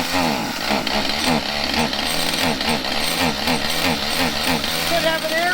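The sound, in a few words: engine of a 1967 Ford truck running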